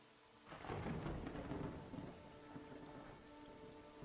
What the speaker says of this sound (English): This rain is super chill.